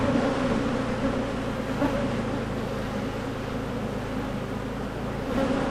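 Feisty honey bees swarm around an open hive, a dense, continuous buzzing close to the microphone that holds steady throughout without speech.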